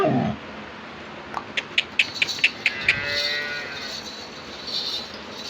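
A young heifer calf lows briefly among a quick run of sharp clicks, with a faint harmonic call near the end.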